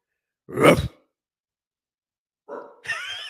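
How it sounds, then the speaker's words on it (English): A dog barks close by: one sharp bark, a pause of silence, then a shorter second bark with a whiny edge. "Bubba, one more bark."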